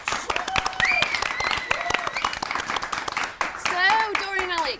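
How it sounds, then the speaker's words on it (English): A studio audience applauds with brisk, continuous clapping throughout, while people talk and react in a lively, overlapping way on top of it. "please, round of applause."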